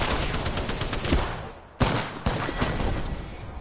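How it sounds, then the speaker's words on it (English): Heavy automatic gunfire in a PS4 shooter game, a dense continuous burst of shots that drops out briefly near the middle and then resumes just as loud, with no talk. "Taking fire, friends."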